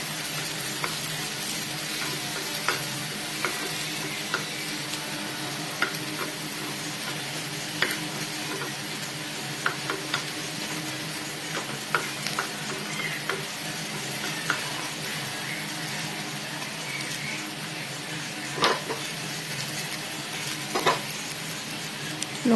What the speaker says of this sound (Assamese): ইয়াতে তেল গৰম হোৱাত মই পিঁয়াজকেইটা দি দিলোঁ